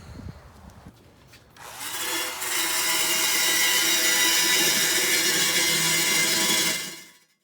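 A high-lift jack is ratcheted down over a piece of wood onto a broken truck rim, a loud sustained mechanical grinding and clatter that starts after about two seconds of low noise and runs steadily before stopping abruptly.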